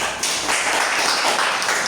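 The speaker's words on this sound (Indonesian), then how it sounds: "tepuk tangan untuk adik" Children in a classroom applaud a young pupil during a maths lesson, a short burst of dense clapping that holds steady for a couple of seconds.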